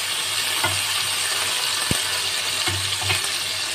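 Paste of ginger, cumin and green chili dropped onto potatoes in a hot pan, a soft continuous sizzle with a few light clinks and scrapes of a spoon, close by and with no talk.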